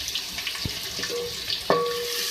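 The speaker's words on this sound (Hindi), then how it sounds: "तो फ्राई करेंगे। इसके साथ में प्याज ऐड करूँगी।" Onions and red chillies fry in a pan for beef stew, giving a constant close sizzle with a few soft knocks and a brief metallic ring near the end.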